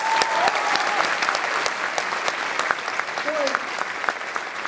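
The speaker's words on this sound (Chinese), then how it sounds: "大家给易成佐掌声一下好不好？" Conference audience applauding at a closing ceremony, a steady crowd clapping that carries through the whole stretch while a host's amplified voice talks over it.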